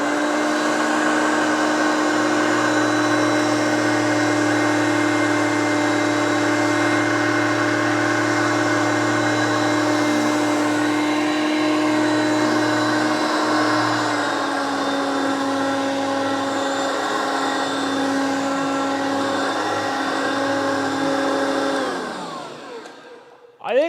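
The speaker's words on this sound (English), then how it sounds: "even though this is a side feed suction machine, you saw the salt come into it through the middle" A side-feed suction upright vacuum cleaner runs steadily at full power with a constant whine and hum while picking up a line of salt and breakfast cereal, its pitch shifting slightly midway before the motor winds down and cuts off at the end.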